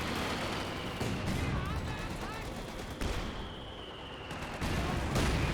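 M8 Scott artillery barrage in Company of Heroes 2, heard as repeated gunfire bursts and shell impacts in a continuous battle din, with a commentator talking over it.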